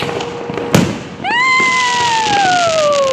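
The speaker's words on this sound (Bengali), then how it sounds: "দেখো গাইস কত বাজি ফাটছে" New Year fireworks outdoors: a sharp bang followed by a long descending whistle of a rocket with harmonic streaks, set against a steady crackling wash of distant bursts.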